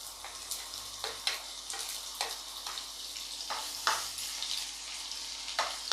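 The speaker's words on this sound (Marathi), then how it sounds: "कांदा पण थोडंसं परतून घेऊया" Onion frying in a pan with cloves, cardamom and bay leaf for Konkani-style chicken, a steady soft sizzle broken by a few sharp spatula scrapes and taps at irregular intervals.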